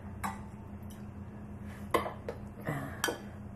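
Metal canning jar lids clink together a few times, light and scattered, in a quiet room.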